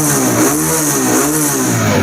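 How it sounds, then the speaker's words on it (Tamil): A red 2024 TVS Raider top-model motorcycle revs loudly up close, its engine note rising and falling in a continuous throaty roar with no talking. "வண்டி சவுண்டே பார்த்தீங்கன்னா புல்லட் சவுண்டு மாதிரி இருக்கும்"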